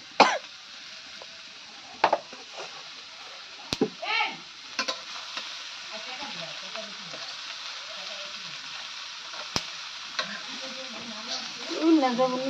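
Home cooking in a pan, with stirring scrapes and a soft sizzle under faint movement, interrupted by a few sharp clanks and knocks and a throat-clearing or cough near the start.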